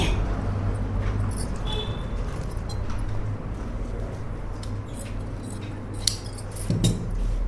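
Scissors cut through cloth with a few crisp, scattered snips and clicks, set against a low steady background while a person speaks.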